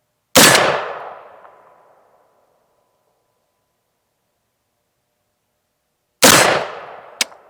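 Two sharp rifle shots strike a steel target plate during a mag dump, each a loud crack with a ringing decay; the first rings out for over a second, then after a long silence a second shot lands with a brief metallic ping right after.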